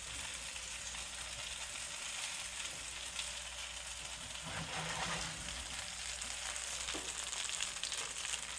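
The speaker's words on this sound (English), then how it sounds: "Do you hear the sizzle?" Roasted butternut squash, fresh from the oven, sizzles steadily in melted butter and its own juices, a continuous close crackling hiss that swells slightly midway and carries on throughout.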